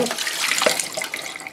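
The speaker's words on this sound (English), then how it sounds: "So now what I do is tip this water out as well," Water pours steadily out of the tank of a Nescafe Red Mug coffee machine, splashing close and loud as the tank is tipped and emptied.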